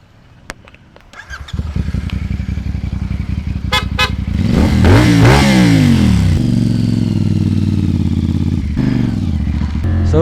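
CF Moto 450 SR-S motorcycle on a long ride, engine building from idle into loud revving accelerations through the gears with close wind rush, and a brief horn toot early on.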